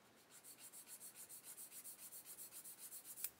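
Sanding stick rubbed back and forth on a plastic part of a 1/35 scale Flak 8.8cm VOMAG model kit, quick even rhythmic scratchy strokes, close and quiet, with no talk.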